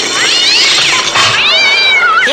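A cat meows twice in a radio comedy skit, the cries loud and close with rising and falling wails, the second one drawn out, heard alone without talk.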